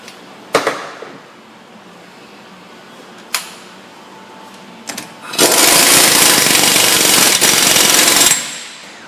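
Ford Escape axle shaft nut being run down with an impact gun, a few isolated clanks, then a loud close rattling hammer burst lasting about three seconds.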